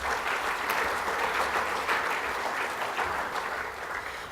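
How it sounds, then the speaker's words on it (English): Applause for Metro at a Victorian vocational training awards event, a fairly quiet, steady patter of many hands from a seated audience lasting a few seconds without speech. "Let's have a round of applause for Metro"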